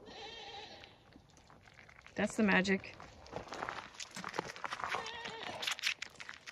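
A goat in Alaska gives a short, loud bleat close by while eating, amid shuffling and footsteps, with a person talking over the scene.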